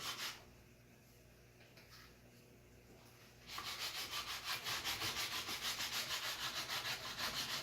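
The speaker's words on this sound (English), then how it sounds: "I am sanding the cedar a little bit" Close, rhythmic sanding strokes on a cedar wood arrow shaft, starting softly and then becoming a steady, louder back-and-forth rubbing.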